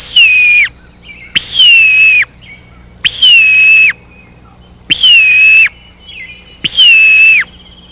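A turkey call is used to imitate a red-tailed hawk: five loud, shrill, descending screams at regular intervals, each about a second long, heard alone.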